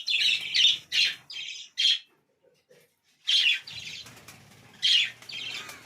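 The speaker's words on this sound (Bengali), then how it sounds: "সবাই উড়ে বেড়াচ্ছে পাখিগুলো" Pet birds in a new colony squawk and chirp in bright, loud bursts close by, with faint wing flaps in the quiet gaps between calls.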